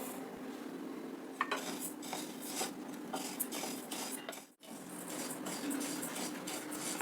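Rice and other dry ingredients are stirred and dry-roasted in a metal pan, giving a steady close scraping and rattling of utensil against pan, with a brief pause near the middle before the stirring resumes.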